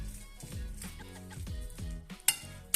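Cheese and onion filling gets stirred in a bowl, with soft scraping and squelching, quiet spoon knocks and a sharp clink against the bowl near the end.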